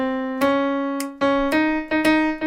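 Piano plays a short melodic phrase from a tenor choral line in an oratorio rehearsal, five distinct notes struck one after another with sustained ringing tones, clear and close with no voices.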